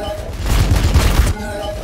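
Sustained gunfire from the Warhammer 40,000: Battlesector battlefield, a loud, dense burst of overlapping shots and booms lasting about a second under a game soundtrack.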